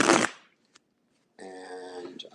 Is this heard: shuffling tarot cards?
yes